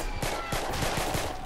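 Rapid gunfire from the Roblox Shell Shock trench-warfare game, a steady run of sharp shots roughly every quarter second over a dense background of battle noise.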